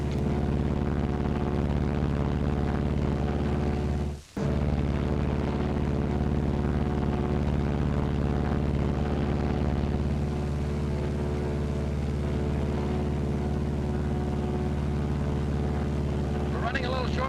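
A Martin B-26 Marauder bomber cruising at 4,000 feet on a single engine gives a steady, loud, droning hum with strong low harmonics, broken by one brief dropout, with radio-style speech running over it.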